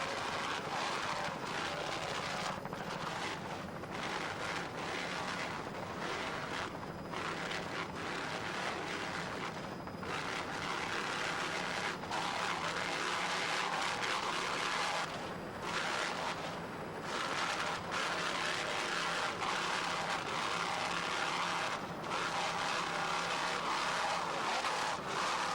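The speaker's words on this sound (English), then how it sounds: "These two 925 horsepower Cobra Power inboards sound excellent." Two 925 horsepower Cobra Power inboard engines powering an Open V class offshore racing boat at a 1994 Key West race, a loud, steady roaring drone sustained throughout with brief dips, heard from a distance.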